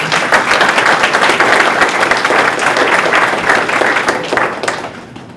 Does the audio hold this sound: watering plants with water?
no